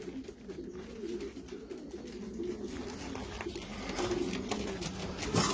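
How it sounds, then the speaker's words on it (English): Young racing pigeons coo in a loft on a sunny day, soft repeated low coos layered over one another in a steady murmur, with a faint mechanical whir and no talking. "They're the young birds."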